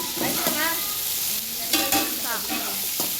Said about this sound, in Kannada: ಎಣ್ಣೆಗೆ ಈರುಳ್ಳಿ ಹಾಕ್ಬಿಟ್ಟು ಚಕ್ಕೆ ಲವಂಗ ಹಾಕ್ಕೊಂಡವ್ರೆ.